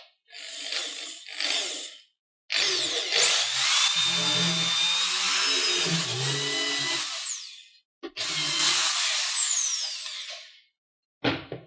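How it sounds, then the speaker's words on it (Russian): A power drill bores a hole for an eccentric fitting in furniture wood with a jig, in several high-pitched whining bursts, two short ones and then longer sustained runs, stopping abruptly between them. "И теперь нужно здесь просверлить отверстие под"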